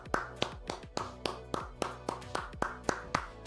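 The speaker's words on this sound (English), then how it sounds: "Clap it up." Hands clap in a steady, evenly spaced rhythm, about a dozen sharp claps at close range with nothing else under them.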